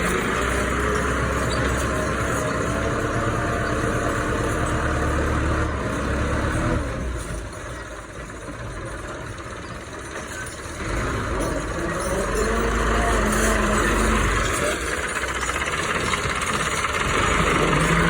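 A tractor engine idles steadily up close in a Pakistani village during work hauling soil, a continuous low rumbling drone with a slight dip in the middle before it returns to full strength.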